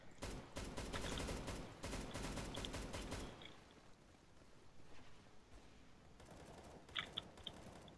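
Rapid automatic gunfire rattles in dense bursts during an Arms Race match in Counter-Strike: Global Offensive, loud for about three seconds, then fading into quieter mechanical clicks and a few sharp pops.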